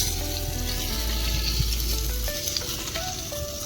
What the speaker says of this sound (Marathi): त्याचा ताम फ्राय चालू आहे.